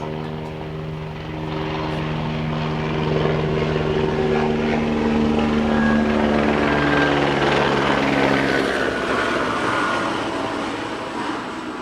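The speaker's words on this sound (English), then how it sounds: "Hold for helicopter noise." Steady helicopter drone with low rotor hum and rumbling harmonics, building slightly then holding loud and continuous throughout, with no talking.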